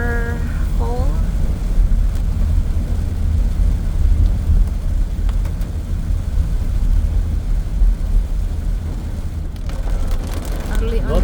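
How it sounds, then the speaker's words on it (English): Heavy morning rain in Bali makes a dense, steady roar that fills the whole stretch while a vehicle drives through flooded streets on the school run. "Heavy rain and have water hole."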